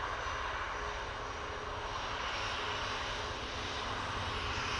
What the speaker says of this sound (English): Always gets busy when I want to get an A380 that's going up over the top, doesn't it?